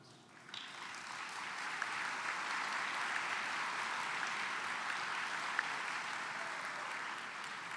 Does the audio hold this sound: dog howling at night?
no